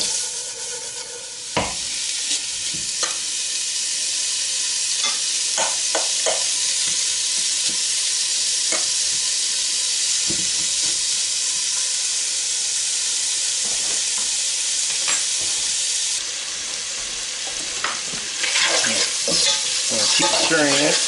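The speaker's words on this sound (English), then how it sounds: "Keep frying it until it starts to brown." Chopped bacon for German potato salad fries in a pan with a steady, close sizzle and hiss, broken by repeated scraping stirs from a utensil throughout.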